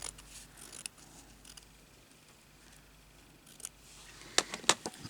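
Scissors cutting fabric for a crazy patchwork piece, a few quiet snips and clicks, with a sharper cluster of cuts near the end, close and faint in a quiet room.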